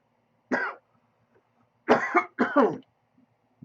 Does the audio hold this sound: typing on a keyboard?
no